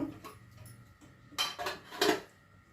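Onion pakoda ingredients being mixed by hand in a bowl, with a few light clinks and scrapes against the dish and two louder rustling bursts near the end, close and without talk.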